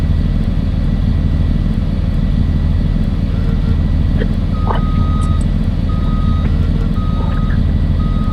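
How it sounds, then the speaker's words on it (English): A school bus reverses while parking, its reversing beeps sounding faintly under a loud, steady diesel engine rumble that runs throughout, with no talking. "I'm just parking my bus so I can get out of the way."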